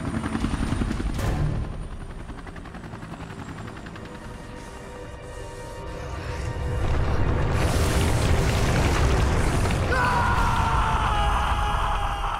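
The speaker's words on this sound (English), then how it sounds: "I'll cover you from the chopper!" A helicopter in the video game Resident Evil: Revelations 2 makes a loud, steady rotor thrum that swells in intensity partway through. A high whine rises near the end.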